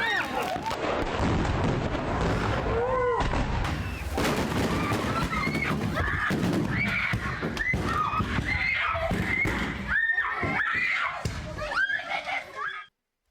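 A stash of fireworks by a basketball net goes up all at once at a 4th of July backyard, a dense, loud chaos of crackles, bangs and whistling shells, with shouting voices mixed in, ending abruptly.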